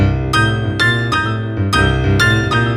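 A blues piano riff played with the left hand, a series of loud, close, percussive note clusters struck in an uneven, bouncing rhythm with ringing sustain between hits.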